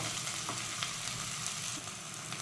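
Spices are tempered in hot oil for Gujarati potato vada filling, giving a steady close-up sizzle and crackle of frying that runs through the whole moment.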